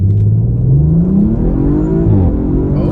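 A tuned Audi RS5 Sportback with its factory exhaust pulls hard at full throttle, the engine note climbing in a loud, rising drone, dropping briefly at a crisp shift, then climbing again, heard close from inside the cabin.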